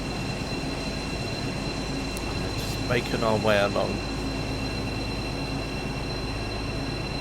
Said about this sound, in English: We're just carrying on today with the BR218, although today we're on the Cross City line that goes through Birmingham.